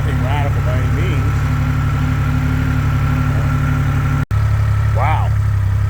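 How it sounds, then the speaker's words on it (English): A vehicle's exhaust idles at a Sunday car meet, holding a steady low rumble throughout while people talk nearby. "There's the next exhaust note. Listen to that."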